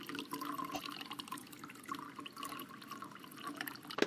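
Liquid is poured into a coffee machine in the video game Routine, a faint, steady trickle and splash with a few small drips, quiet throughout and ending on a slight clunk.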